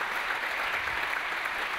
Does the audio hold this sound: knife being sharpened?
no